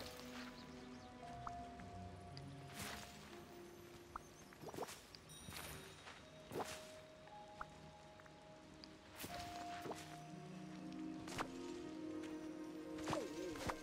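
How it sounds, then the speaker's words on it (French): Rain falling in the video game Disney Dreamlight Valley, a faint soft patter with scattered drips and squishy footstep-like clicks, under quiet game music tones. "Il pleut, c'est bien parce que j'ai pas besoin de les arroser."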